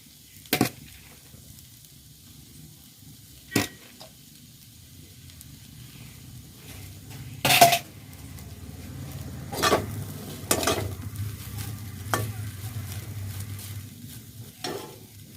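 Cooked, cooled basmati rice is stirred in a pan for egg fried rice, with a quiet sizzle underneath and several sharp scrapes and clinks of a ladle against the pan spread through the stretch.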